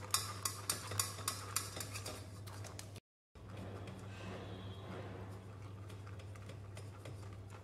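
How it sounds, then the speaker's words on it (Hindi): Tamarind chutney being pressed through a sieve by hand, starting with a run of sharp scraping taps and then giving way to a softer, wet, continuous rubbing, all against a steady low hum. "ये मैं देखिए, ये मैं इसको छान रही हूँ। हाथ से छानने से ये क्या फटाफट छन जाती है।"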